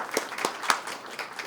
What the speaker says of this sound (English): Please give a round of applause again to the panelists.